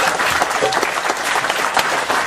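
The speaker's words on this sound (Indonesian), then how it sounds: "Tepuk tangan semua untuk Pak Sobar." A crowd at a gathering applauds Pak Sobar, dense and continuous clapping filling the room at close range.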